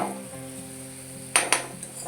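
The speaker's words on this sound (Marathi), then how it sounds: "ह्याला व्यवस्थित मिक्स करून घ्यायचं आहे" Banana samosa filling stirred in a pan: a low steady background hum, then two sharp scrapes or clanks of a spoon against the pan partway through, followed by softer stirring knocks.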